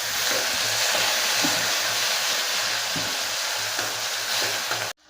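Chopped tomato hits hot oil in a pan of country chicken masala, giving a loud, continuous sizzle and frying hiss with faint stirring scrapes before the sound cuts off abruptly at the end.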